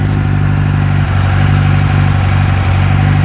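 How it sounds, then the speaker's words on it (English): A classic Ford Escort Mk2 engine, started after decades as a barn find, idles close up, a loud, even low-pitched rumble with a steady throbbing pulse and no voices. "yeah, that engine runs sweet."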